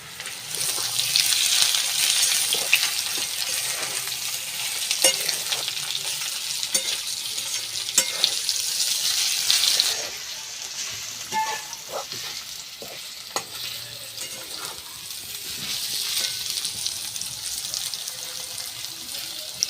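Chopped carrots and potatoes frying in a wok in a village kitchen, a continuous bright sizzle with scattered scraping and stirring clicks, louder in the first half and settling to a gentler hiss later.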